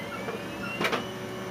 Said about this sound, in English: that's somebody doing my printer here